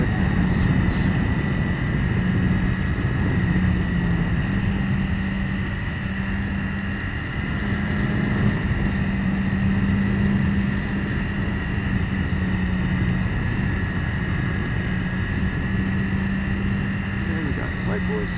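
A motorcycle on Bridgestone S21 sport tires cruises along a road, its steady engine drone and wind roar continuous throughout.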